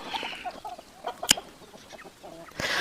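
A hen with a brood of newly hatched chicks, around 26 of them, gives soft clucks among thin, high peeping calls, with one sharp louder chirp and a rustle near the end, fairly close by.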